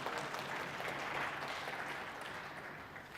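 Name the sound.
audience clapping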